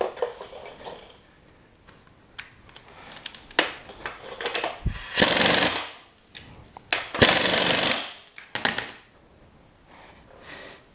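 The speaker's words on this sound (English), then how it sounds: "I got that tightened up with my wrench in there" Metal wrench clinks and ratchets against a motorcycle's front sprocket and chain adjuster, a run of close, sharp metallic clatters and scraping bursts with quiet pauses between them.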